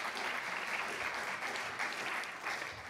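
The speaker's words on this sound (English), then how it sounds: "we want to thank you and give you another round of applause for your time." An audience at a presidential forum on tourism gives sustained applause, a dense, even wash of many hands clapping from start to finish.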